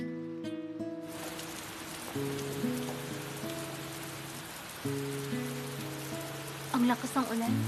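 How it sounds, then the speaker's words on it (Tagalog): Heavy rain pours steadily on surfaces, a broad continuous hiss running beneath a sustained musical score, with a few louder splashy bursts near the end. "Ang lakas ng ulan."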